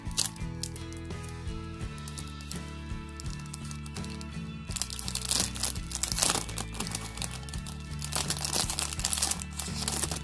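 A sticker on a package is peeled and shifted aside, giving a steady close crinkling and crackling that keeps going and grows a little louder partway through, with faint musical tones underneath.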